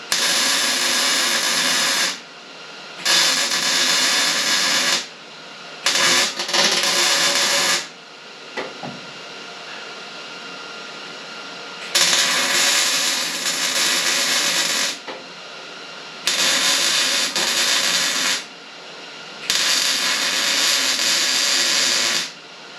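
A welder works upside down on the front floor braces of a Ford Econoline van, with loud bursts of crackling, hissing arc a few seconds each, separated by short quiet pauses.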